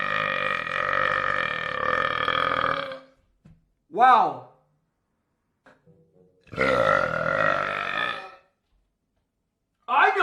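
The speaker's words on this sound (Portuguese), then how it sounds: "Tirando o gás pra cima e eu fico arrotando." Long, loud, drawn-out burps from a person after drinking a fizzy dissolved powder, three big belches close to the mic with silent gaps between, and a brief spoken exclamation.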